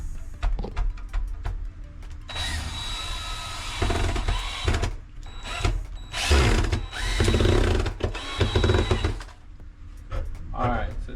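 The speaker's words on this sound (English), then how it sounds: "I'm gonna double the screws so for safety." A cordless power drill drives screws to secure new plumbing during a house re-pipe, whirring in several loud close bursts of a few seconds each, separated by brief pauses and handling noise.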